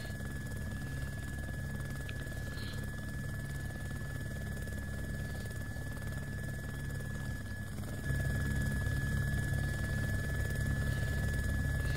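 Helicopter engine in the video game Arma 2 DayZ, a steady low rotor drone and whine running throughout, growing louder near the end, with no talk over it.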